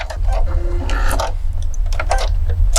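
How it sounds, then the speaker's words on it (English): A Brother sewing machine runs a lock stitch to finish a buttonhole, giving a steady near mechanical whir with quick, closely spaced stitching clicks under a low motor hum that holds constant throughout. "And it does a lock stitch, and it is now done."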